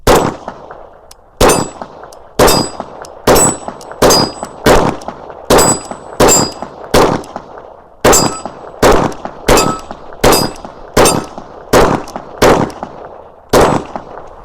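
Rapid, loud gunshots from a Glock 22 pistol fitted with a compensator, about sixteen sharp cracks fired in a quick, fairly steady rhythm of roughly one per second, with no talking.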